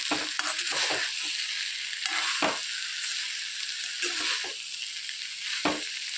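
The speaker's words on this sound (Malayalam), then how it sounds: "അതും ചേർത്ത് കൊടുത്ത് നന്നായിട്ട് ഇളക്കി യോജിപ്പിക്കുക" Meat masala is stirred into a sizzling pumpkin masala curry in a pan, with a steady frying hiss broken by repeated scraping strokes of the spoon, close and alone without talk.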